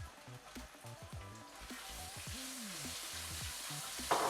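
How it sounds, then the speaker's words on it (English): Cumin seeds spluttering and sizzling in hot oil as chilies and ginger go into the pan, a steady close frying hiss with small pops and a brief louder crackle near the end. "So the cumin seeds are now nicely spluttering along."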